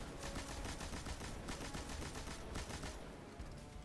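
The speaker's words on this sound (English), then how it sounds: "now I'm just going to clear out these scions with the machine gun" Machine gun fire in Destiny 2 while clearing out scions, a faint, rapid run of overlapping shots that continues steadily for several seconds.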